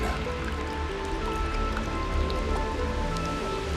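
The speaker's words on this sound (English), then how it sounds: "The beautiful rain." Rain falls steadily and densely, a continuous close patter of drops on surfaces with no pauses and no voices.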